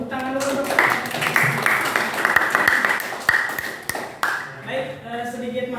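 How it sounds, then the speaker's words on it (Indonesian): A classroom group breaks into brisk clapping, a burst of many hands tapping together that rises and then trails off within a few seconds, with voices mixed in and talk resuming near the end. "Tepuk tangan dulu."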